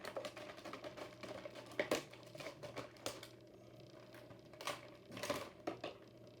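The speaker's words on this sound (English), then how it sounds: "time to bust out the scissors for these ones" Scissors cut through the plastic packaging of a Racing Champions die-cast toy car, giving faint, irregular snips and plastic clicks in a quiet room with no talking.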